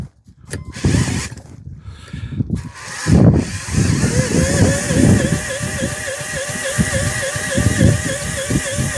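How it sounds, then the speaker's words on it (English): A small 10-volt cordless drill spins a Stuart model generator, giving a steady whirring drone with rhythmic mechanical pulsing after a few short bumps and stops at the start. "This really is the limitations of my little 10-volt drill."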